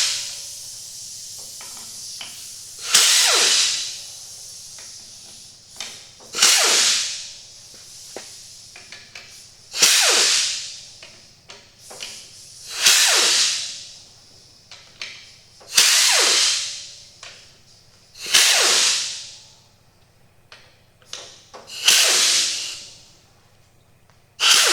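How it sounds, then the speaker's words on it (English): A power tool spins out the valve body bolts of a 2006 Dodge Ram 48RE automatic transmission in about eight evenly spaced bursts. Each burst is a rising, hissing whirr lasting a second or two, with quiet gaps between. "the valve body bolts come out next, and there are 10 of them. So we're going to remove those."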